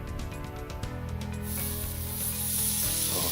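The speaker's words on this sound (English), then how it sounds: "So we're just gonna sear this thing for about 2 to 3 minutes on each side" A5 Kagoshima wagyu ribeye steak searing in a pan breaks into a loud, bright sizzle after a quieter start and holds steady, close and continuous, with no voices.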